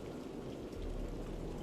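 Steady rain patters on wet wood over a chasm in the video game Primal, a dense, even hiss with no distinct drops or voices.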